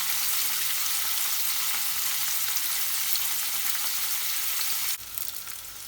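Paneer frying in a pan gives a steady, bright sizzle that holds evenly throughout, changing slightly in tone near the end as the pieces are turned; no voices.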